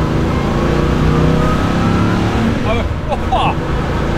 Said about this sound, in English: I'm not going to push the revs high today, not above 5. The engine's been fully rebuilt.